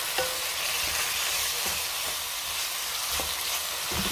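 Green beans sautéing with liver, canned tuna and egg, a loud, even frying hiss with a few soft stirring scrapes, close by and without any voices.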